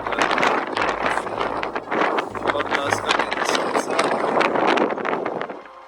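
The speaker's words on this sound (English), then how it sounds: "it's really windy" Strong wind on a mountain buffets the microphone in loud, continuous rumbling gusts, with a roaring low-end that swells and eases throughout.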